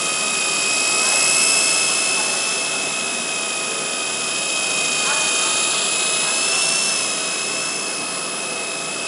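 A radio-controlled flybar helicopter hovers and maneuvers nearby, its high-pitched motor and rotor whine holding steady with slight rises and falls in pitch throughout.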